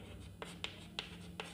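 Numbers being written during a Class 8 math lesson on squares and square roots, a handful of short crisp taps and scratches spaced evenly over a soft steady background hum.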